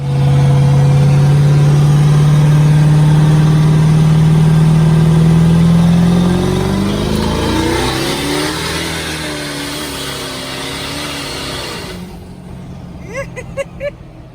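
A Ford Ranger truck engine runs with a strong steady drone, then revs up and settles into a lower, fading hum before a few short clicks near the end. It is loud and close, with no talk.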